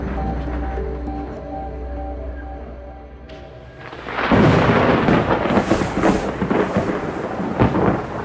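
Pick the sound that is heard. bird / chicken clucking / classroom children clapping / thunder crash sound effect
thunder crash sound effect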